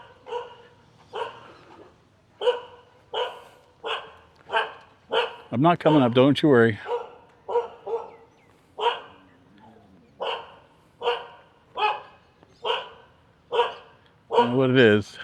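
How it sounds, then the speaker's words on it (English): Temple dogs at a temple in Siem Reap, Cambodia, bark in a steady series of sharp, loud barks close by, with a brief burst of whining yelps partway through; someone speaks briefly amid the barking. "Temple dogs are doing the temple dog thing."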